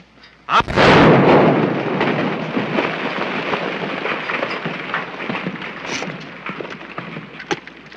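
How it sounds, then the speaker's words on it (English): Gunfire in a 1931 desert western: one loud, close blast followed by a long rumbling echo that rolls on and slowly fades, with a few fainter cracks later, no talking. "Somebody else shooting?"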